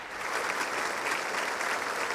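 A large audience at the Capitol breaks into rapturous applause for the pope, a dense, steady wash of many hands clapping heard from a distance with no voices over it.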